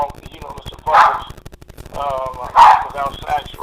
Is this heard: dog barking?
yes